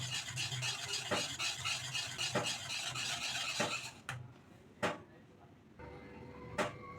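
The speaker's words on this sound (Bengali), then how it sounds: "ভালো করে মিক্স করতে হবে যাতে ওই দইয়ের বাটারটা এই আমের পালের সঙ্গে পুরোপুরি মিশে যায়।" A spoon stirs yogurt batter into mango pulp in a bowl, making repeated scraping strokes, then a few sharp isolated clinks against the bowl before the sound trails off.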